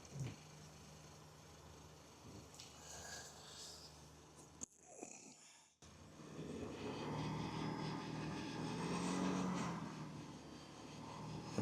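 A car engine runs at a steady idle, dips briefly, then rises to a louder, sustained roar as it is revved and held at about 2,500 RPM during a battery test.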